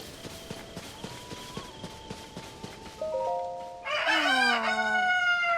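A cartoonish cuckoo bird clucks in The Legend of Zelda: Tears of the Kingdom, with soft rhythmic clucks over game music, then a loud, drawn-out rooster-like crow near the end.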